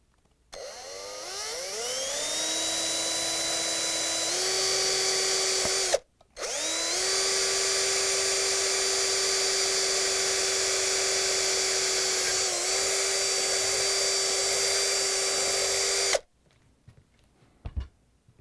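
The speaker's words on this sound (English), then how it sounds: "now we're going to use the power drill with a drill bit just a bit larger than the cotter pin" A power drill drilling out a cotter pin on a Samsung front caster wheel axle whines steadily for several seconds, stops briefly, then runs again at a constant high pitch before cutting off, with no voices.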